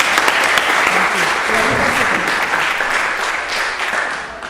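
Applause from an audience at a spiritual talk, steady dense clapping filling the whole stretch at full volume, with a few voices faintly mixed in.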